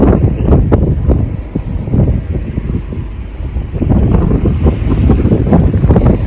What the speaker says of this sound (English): the wind is picking up a lot